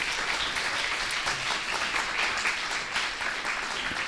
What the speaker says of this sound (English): Please give a warm applause to both of our speakers.